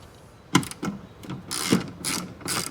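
A ratchet turning an 8mm socket to remove the tail light on an MK6 Golf gives several short, close bursts of rapid clicking, separated by brief pauses.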